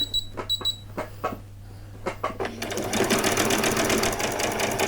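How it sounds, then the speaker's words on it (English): Sewing the shoulder seam of vet scrubs: a few short clicks and handling sounds, then a sewing machine starts a back stitch with a fast, close, steady whir. "And then I'll do a back stitch and then come back on again."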